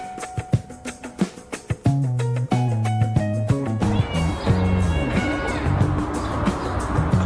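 A cat meows repeatedly, starting with short separate cries and building into a louder, denser run of overlapping meows, with faint background noise.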